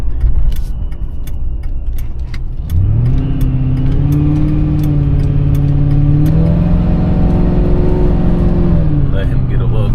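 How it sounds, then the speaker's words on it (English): A supercharged 2004 Mercury Marauder revs from a rattling idle into a loud, rising engine note with a supercharger whine on top, while the exhaust drones steadily close by and scattered clicks and a jangle sound early on. "You can hear the whine coming from that charger, and then of course the exhaust sounds good as well."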